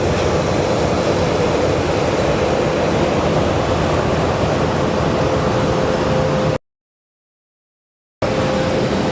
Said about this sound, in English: we have another small plane coming in